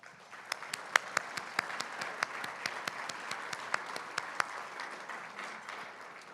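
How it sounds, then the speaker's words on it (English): An audience applauds outgoing officers of a Women's Council State Network at an inaugural night, giving steady mid-distance clapping with several sharp, loud individual claps standing out, sustained over about six seconds. "Please give these officers a round of applause"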